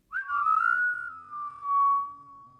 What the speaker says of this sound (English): They said he used to whistle to himself when he moved around